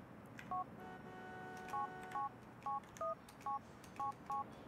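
A phone number dialed in the video game GTA 4: a quick series of about nine DTMF keypad tones, clear and evenly spaced over a quiet background.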